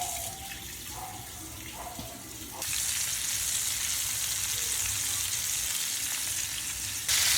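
Floured food, seasoned with calamansi, sizzles in a hot kawali with a steady hiss that grows louder partway through. Some quieter clatter comes before it, and there is no talk.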